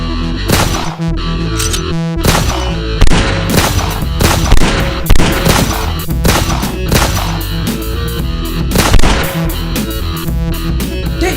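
Gunfire in a Tamil action short film battle scene: loud, dense volleys of rapid shots and sharp cracks repeating throughout, forming a chaotic, continuous barrage.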